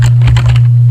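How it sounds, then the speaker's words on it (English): Quick keystrokes on a computer keyboard as a library search query is typed, a short run of close, crisp taps over a steady electrical hum. "let's type in some spectacles"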